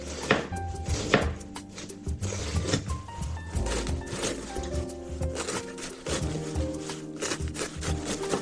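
A knife chops cabbage on a wooden board for a Japanese ginger pork garnish, a fast run of close, crisp cuts and board knocks with rustling shreds, no talk.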